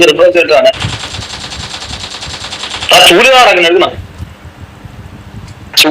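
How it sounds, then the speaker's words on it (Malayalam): Rapid automatic gunfire in the BGMI mobile battle-royale game, a sustained burst of shots with a second loud volley midway, mixed with game ambience and overlapping voices. "ഇവിടെ എവിടെ പ്ലെയർ ഉണ്ട് കേട്ടാ പ്ലെയറിന്റെ അടി കേട്ടി"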